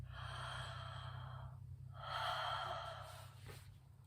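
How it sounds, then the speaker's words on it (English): Slow breathing in and out through the mouth during a relaxed breathing exercise: two long airy breaths, near and fairly soft, with no talking. "we can try taking a few breaths in and out through the mouth."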